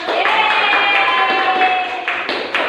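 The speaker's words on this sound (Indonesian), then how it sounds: "Tepuk tangan." Students in an Islamic jurisprudence class clap together for a few seconds, a brisk, fairly close patter of hands with a steady tone running underneath.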